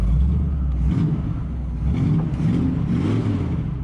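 A 1973 Dodge D100 truck engine rumbles and revs as the truck pulls away in gear, a moderate, continuous low drone that rises and falls in pitch over a few seconds, with no talk.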